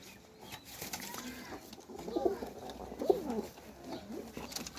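Pigeons kept in pairs with young coo softly in low, throaty phrases, two clearer calls standing out over faint background rustling and noise.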